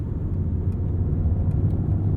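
A Mercedes-AMG GT 63 coupe's engine rumbles steadily with a deep, low drone, heard from inside the car in individual drive mode, with no voices.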